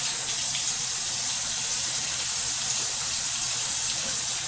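A bathroom tap runs in a steady, close, full-bodied gush of water while someone wets their face before a shave, the flow constant and unbroken with no voices.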